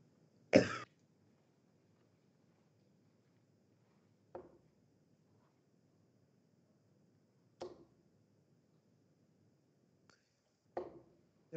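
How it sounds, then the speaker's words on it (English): A man recovering from a sore throat coughs in several short, separate bursts spaced a few seconds apart against a quiet background, one cough louder than the rest. "Sorry for the constant coughing, by the way."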